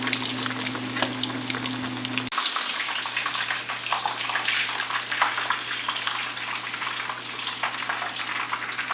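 White fish fillets deep frying in oil heated to 180 degrees, giving a loud, continuous crackling sizzle close by after a brief hum from a kitchen appliance at the start.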